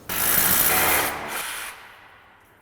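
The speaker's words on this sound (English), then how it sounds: "So we're gonna need to use anchors and the good old drill" A power drill boring into very hard concrete to set wall anchors in a workshop whines loudly and steadily for about a second and a half, then spins down and fades, with no talking.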